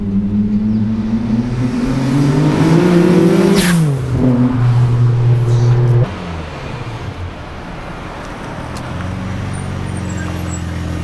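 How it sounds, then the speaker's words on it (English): A Nissan Skyline GT-R R34 V-Spec II launches hard, its engine note climbing loudly through revs before a gearshift and a sharp exhaust backfire, then settling into a lower steady drone. "We had a nice backfire there at the back"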